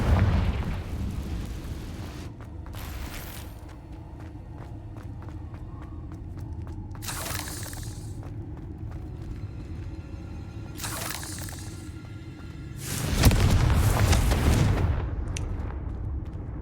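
Confringo blasting spells from Hogwarts Legacy burst in a series of loud booming explosions with crackling debris, spread through the clip, the last and biggest rumbling near its end.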